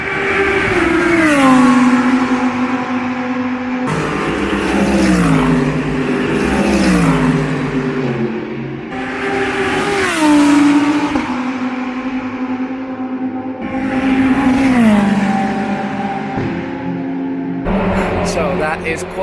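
A Lamborghini Huracan GT3 Evo race car howls through a qualifying session, its engine climbing in pitch through repeated gear changes with sharp drops between shifts, loud and close throughout.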